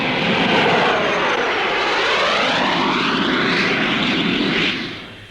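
A Jet Provost trainer flies a slow roll at an air display, its loud jet roar sweeping steadily past and then fading toward the end.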